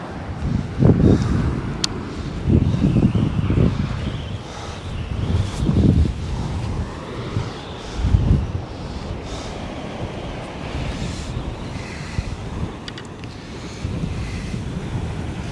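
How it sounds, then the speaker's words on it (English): Strong wind buffets the microphone on a seashore at Sutton on Sea during sea fishing, a steady roaring gust with surf beneath and louder rumbling bursts in the first eight seconds, then easing slightly. "Play for time, hopefully the wind will die down."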